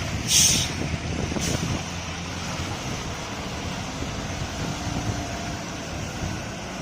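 Trucks roll along a rain-soaked road during monsoon rain in Ankola, a steady wet rumble and hiss with a short sharp air-brake burst near the start and another fainter one soon after.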